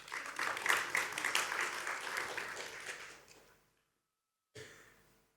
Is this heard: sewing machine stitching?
no